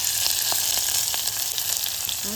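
A herbal mixture for joint pain cooks in a pan, sizzling and frying steadily and loudly throughout, with faint occasional stirring taps and no voices.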